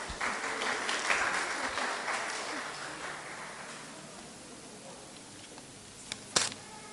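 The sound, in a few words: church congregation applause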